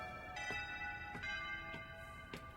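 An end-of-class bell rings faintly in a distant, regular rhythm of about five strikes, each leaving a sustained metallic ringing tone over a quiet background.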